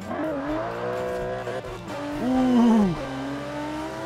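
A car accelerating hard from a standing start in Forza Horizon 4, fitted with off-road tyres. The engine note climbs through several rising sweeps, loud and close, with a brief exclamation from a voice over it.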